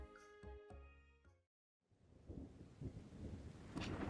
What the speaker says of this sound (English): a sudden crack of thunder jolts you awake